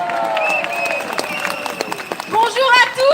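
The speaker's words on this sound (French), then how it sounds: "Il s'agit de Colomba, vous pouvez l'applaudir." A crowd at a political rally in France breaks into applause, dense clapping building toward the end, with voices and whistling tones mixed in.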